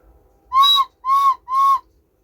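The bellows whistle of an old cuckoo clock, heard after the bellows were replaced, gives three clear, evenly spaced hooting notes close to the listener in a quiet room.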